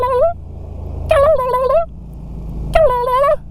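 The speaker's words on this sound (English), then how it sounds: "Must be like 30 turkeys." A flock of wild turkeys in a field gobble in three loud, rattling bursts about a second apart, with a low vehicle engine rumbling steadily underneath.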